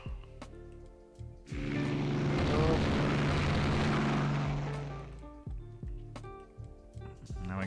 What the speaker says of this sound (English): Enemy aircraft.